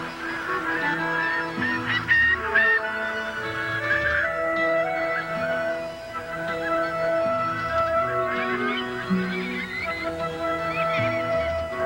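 A flock of birds on a tidal estuary honk and call continuously, many overlapping goose-like cries at moderate distance with a steady chorus throughout.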